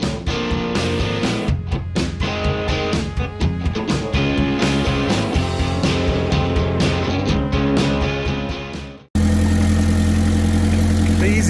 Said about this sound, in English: Easy button for backing four-wheel steer header carts into barns. Use the forklift.